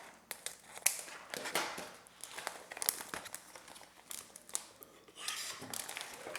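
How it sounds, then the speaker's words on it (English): Blue jelly ribbon is cut and handled up close, with quiet crinkling, rustling and scattered sharp snips of scissors in an irregular rhythm. "Take the blue, cut that little folded end off."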